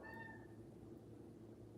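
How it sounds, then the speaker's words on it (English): Domestic cat giving a brief, faint meow near the start, over a low hum of room noise. "You hear my cat?"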